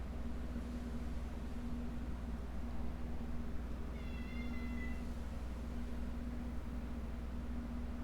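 A cat meows in the video game Fate/Grand Order, a single brief, faint, high call rising over a steady hum and noise bed.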